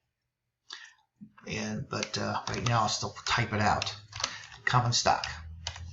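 Rapid clicking of a computer keyboard being typed on sits beneath continuous close speech, the keystrokes soft and partly masked by the talking voice.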